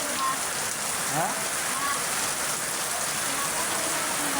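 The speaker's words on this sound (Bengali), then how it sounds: "এই যে পরিমাণ বৃষ্টি" Heavy rain pours steadily around a house, a dense, even wash of hiss that stays loud and constant throughout, with a single brief voice heard over it.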